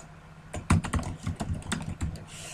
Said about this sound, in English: then you can type whatever you want.